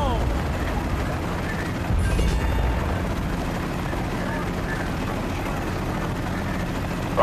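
A military helicopter hovers in the Battlefield: Bad Company video game, its rotor making a loud continuous thrumming chop throughout, with gunfire and talk partly mixed in.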